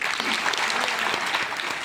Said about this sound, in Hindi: एक बार ताली बजाइए साहब।